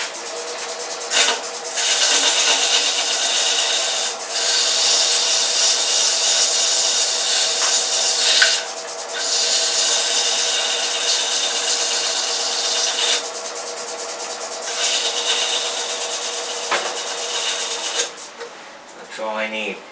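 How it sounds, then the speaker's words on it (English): A wooden peppermill spins on a wood lathe while 140 grit sandpaper is held inside its cavity, giving a loud, continuous rough rubbing hiss with several brief breaks as the paper lifts away. "140 grit sandpaper. I'm just going to clean up the inside of this real quick."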